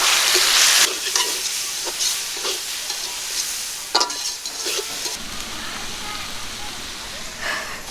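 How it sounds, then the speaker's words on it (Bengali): Red amaranth greens frying in a wok, following fried onion, in a village kitchen: loud hiss and sizzle that tapers off, broken by scraping stirs, with a voice speaking briefly over it. "এখানে লাল শাকটা আমরা সুন্দর করে ভেজে নিই।"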